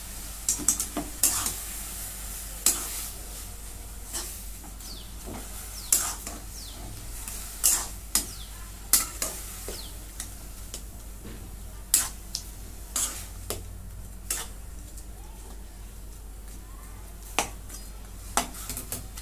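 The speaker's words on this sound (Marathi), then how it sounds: "हे परतून घेते" Pumpkin mixture for kashi bhopla gharge, made with jaggery, sautéed in a pan on a steady low sizzle, with repeated sharp scrapes and taps of a spoon stirring it throughout.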